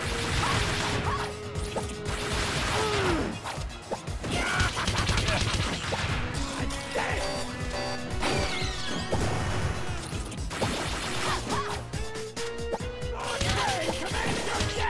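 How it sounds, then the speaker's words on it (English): Rapid gunfire from the video game Freedom Planet 2 crackles in dense, continuous bursts, mixed with crashes, whooshes and busy game music, loud and unbroken throughout. "it's rapid fire"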